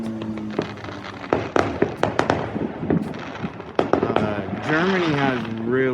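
Canada Day fireworks crack and pop in a rapid, irregular series of sharp bangs, some near and loud, while people talk and shout over them.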